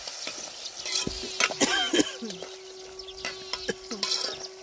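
A vegetable curry of mixed vegetables fries in a pan, with close scraping and stirring clatters and a soft sizzle under a steady tonal hum, the stirring loudest in the middle.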